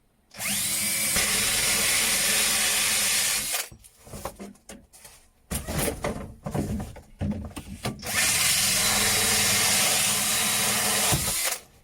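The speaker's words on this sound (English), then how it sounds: "I'll make a wooden washer with a hole saw that has a slightly smaller diameter than the ramrod" A hole saw on a drill bores through plywood to cut a small wooden washer: a loud, close whirring grind for several seconds, a pause filled with scattered handling knocks and shorter bursts, then another sustained cutting run.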